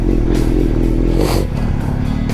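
A Kawasaki Z650 RS motorcycle engine runs through its exhaust pipes close by, a loud low rumbling idle with some clattery texture that dips slightly partway through.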